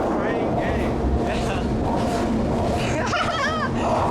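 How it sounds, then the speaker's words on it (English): A train rumbles steadily past close by, a loud continuous roar with squealing metallic tones near the end, while people talk over it. "The train just goes through our interview."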